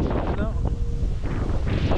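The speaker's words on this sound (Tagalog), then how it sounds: "Sarap ng hangin, lakas." Strong countryside wind rushes over the microphone in a dense, steady low roar, with faint voices briefly audible beneath the gusts.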